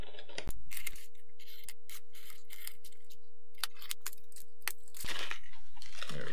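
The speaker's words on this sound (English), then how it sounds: "I've got my handy dandy little X-Acto knife here." X-Acto knife slicing open a sealed package, a run of sharp scraping and crinkling cuts with a steady faint tone beneath, ending in a louder rip of packaging.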